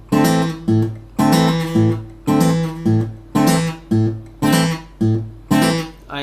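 An acoustic guitar is fingerpicked Travis style, repeated strummed-chord attacks over an alternating bass, in a steady rhythm of about eight strokes, clear and close with no talking.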